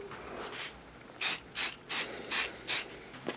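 Aluminum Rust-Oleum spray paint hissing from a can in five short, even bursts, close and clear, each lasting about a third of a second, with faint noise between them.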